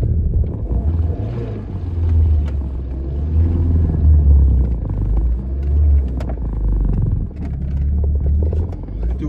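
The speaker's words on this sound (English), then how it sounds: "That's what a cold escort sounds like." A cold Ford Escort engine idles steadily with a deep, continuous low rumble throughout, close and fairly loud, with small fluctuations in the drone.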